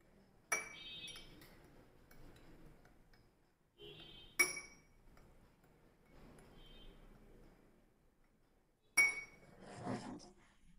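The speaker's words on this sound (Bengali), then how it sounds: "এখন সুন্দর করে একটা নাড়া দেই, দেখি কি অবস্থা।" A spoon clinks sharply against a tea-tasting glass three times, spaced several seconds apart. Between the clinks there is soft, close stirring and handling noise in a quiet room.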